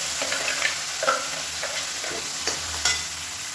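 Ground tomato chutney hits a hot pan and sizzles steadily, with a few stirring clinks and scrapes from a utensil, close and moderately loud with no talk.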